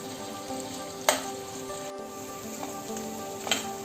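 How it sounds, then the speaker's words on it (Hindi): Onions and potatoes half-fried in oil over a low flame for paneer smoky dum biryani give a steady, close sizzle, with two sharper stirring clatters breaking through partway and near the end. "अब हमारे प्याज हाफ फ्राई हो चुके हैं, आलू भी हाफ फ्राई हो चुके हैं।"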